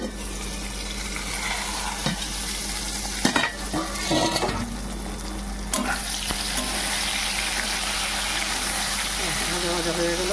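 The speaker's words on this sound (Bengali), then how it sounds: "ভাজা ভাজা হয়ে গেল" Spinach leaves sizzle in hot oil in a pan while being stirred, a continuous crackling hiss broken by a few sharp scraping clatters of the utensil against the pan.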